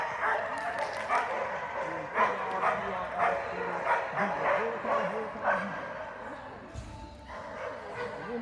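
Several dogs bark and yip in repeated close bursts, some whimpering between barks, while people talk over them.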